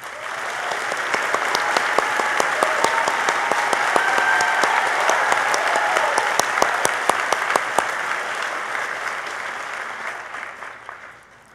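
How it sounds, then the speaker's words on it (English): Sustained round of applause from an academic ceremony audience honoring a faculty member, dense clapping with some sharp individual claps standing out, steady throughout and fading at the end. "So please join me in another round of applause for Dr. Tom Davidson."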